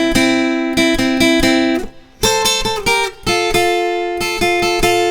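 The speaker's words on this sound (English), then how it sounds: "that is this very simple instrumental section" Acoustic guitar plays the simple instrumental section of a song, bright plucked notes and strummed chords moving in a steady rhythm with brief pauses between phrases, close and clear.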